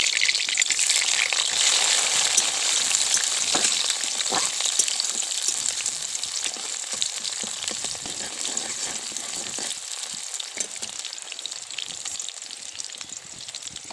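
Onions sizzling steadily in hot oil in a pan while chicken curry is being cooked, a continuous loud crackle with occasional stirring scrapes and no talking.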